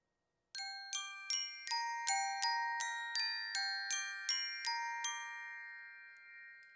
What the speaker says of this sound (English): Hard plastic on song bells.